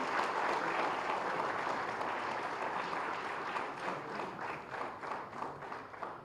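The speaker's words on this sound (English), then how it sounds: "Can we have a big, big round of applause" An audience at a medical conference gives a big round of applause for the chief guest, dense continuous clapping from a large crowd that starts full and thins slightly toward the end.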